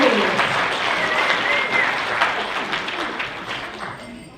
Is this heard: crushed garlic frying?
no